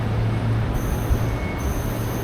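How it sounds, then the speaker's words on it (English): An electric urban train rumbles past at close range with a steady low roar, a thin high whine rising over it partway through. "These are urban trains, electric trains that have got many stations"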